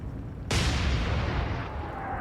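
Naval guns fire and a shell explodes in the naval warfare video game Atlantic Fleet, a sudden loud boom followed by a long rumbling, crackling decay.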